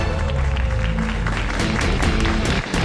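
Loud crowd applause and cheering fill the arena at the GSL Super Tournament final, an esports event, and music plays underneath. The sound is dense and continuous for a few seconds.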